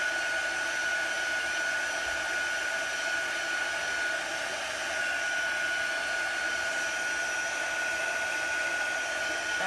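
A hair dryer runs steadily to dry chalk paste on a stencil, giving a continuous close whirring blow with a constant high whine for the whole stretch and no talking.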